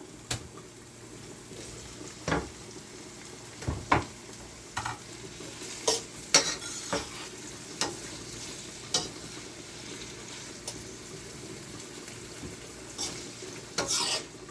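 Sweet pepper frying in a pot with a steady, gentle sizzle, broken by scattered sharp scrapes and knocks of stirring spread across the span, close by and moderately quiet.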